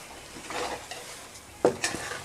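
Besan and suji mithai mixture being scraped out of a pan with a spoon after the stove is turned off, giving soft stirring and scraping sounds followed by a couple of sharp metallic clinks against the pan.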